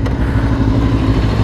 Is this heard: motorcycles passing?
yes